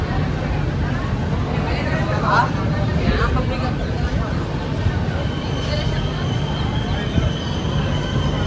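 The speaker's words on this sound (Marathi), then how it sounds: "Yadagiri railway station platform number 1." A train at the crowded platform 1 of Yadgir railway station, with steady loud rumbling and wheel squeal close by, and crowd babble and voices mixed in throughout.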